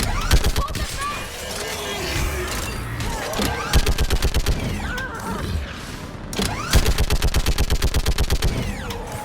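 A mounted gun in Mass Effect 3 fires rapid, evenly spaced bursts of heavy shots, loud and close, with mechanical clatter and crashes between volleys and voices talking amid the fighting.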